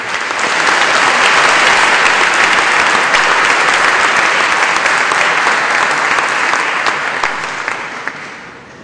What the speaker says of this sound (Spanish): Pues un aplauso para nuestros candidatos.